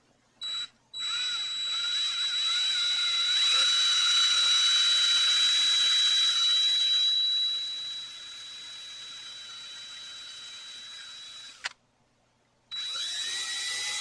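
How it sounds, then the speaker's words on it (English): A sharp drill bit bores into oak hardwood dowel, a steady whining drone that runs for several seconds, briefly stops and starts again, with a thin high tone above it. "And this is oak, it's hardwood. So it's nice to have a good sharp drill bit."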